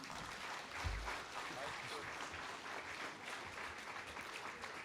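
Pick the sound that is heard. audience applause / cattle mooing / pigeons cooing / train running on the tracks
audience applause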